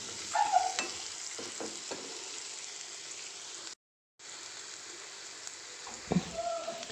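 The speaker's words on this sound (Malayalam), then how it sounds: "തക്കാളിയും കൂടി ഇട്ടിട്ട് നല്ലപോലെ ഒന്ന് മിക്സ് ചെയ്ത് കൊടുക്കാം." Chopped tomatoes stirred into frying shallots in a pan, with a steady close sizzle and scraping stir strokes, a brief silent gap midway, then louder clattering stirs near the end.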